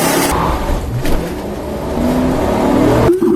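A stolen police squad car accelerates away on a street, its engine roaring loud and close with a rising, strained rev over about three seconds before a sudden cut.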